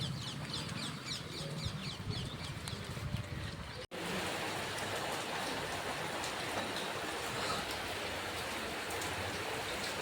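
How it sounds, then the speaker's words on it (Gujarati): Steady midday rain patters down on surfaces, a dense, even hiss; birds chirp faintly early on before a brief cut, then the downpour continues. "ને વરસાદ આવ્યો"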